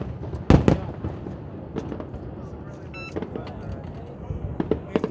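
Fireworks bursting at a Lunar New Year 2020 celebration in Vietnam, sharp cracks and booms at irregular intervals, some near and loud, with crowd voices in the background.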